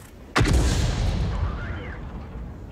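In the World of Tanks video game, a single loud artillery shot booms close by, followed by a long rumbling decay that fades over a couple of seconds.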